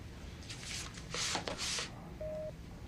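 An office telephone being dialed, a short run of soft electronic tone bursts followed by a brief steady beep, heard close with light room hiss and no talking.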